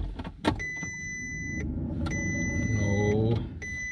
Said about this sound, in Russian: печка зажужжала